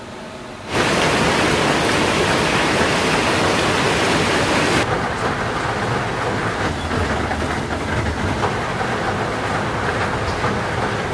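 Heavy rain falls at night, a sudden loud, dense downpour hiss that starts abruptly and holds steady, its texture shifting slightly midway, with no voices.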